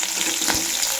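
Whole cumin seeds hit hot ghee for a tomato soup tempering, giving a constant bright sizzle up close. It continues evenly throughout with no talking.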